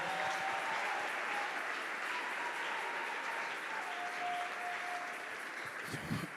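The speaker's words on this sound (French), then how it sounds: "Est-ce qu'on peut encore bien acclamer le Seigneur?" A church congregation applauds in a steady, dense wash of clapping that fades slightly toward the end, with faint voices underneath.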